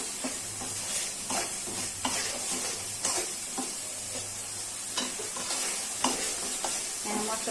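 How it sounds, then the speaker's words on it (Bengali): Spice paste with green chilies and salt stir-fried in a pan for a Bengali gourd and snakehead fish dish, a steady close sizzle with rhythmic scraping strokes of a spatula about once a second. "এখন মশলাটা একটু কষানো হয়।"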